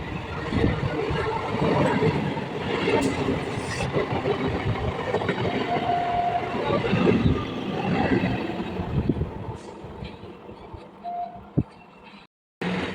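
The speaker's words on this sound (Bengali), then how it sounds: "এই কৃষ্ণনগর গ্যালোপিং লোকালটা প্রতিদিন চলে প্রতিদিন শিয়ালদাহ স্টেশন থেকে সন্ধ্যা ছটা তেতাল্লিশ মিনিটে ছাড়ে এখন এক নম্বর লাইন দিয়ে বেরিয়ে যাচ্ছে" The Krishnanagar galloping local train pulls out of Sealdah station on line one in the evening, making a steady, broad rumble of wheels and rails. A voice talks over it, and the sound eases off toward the end.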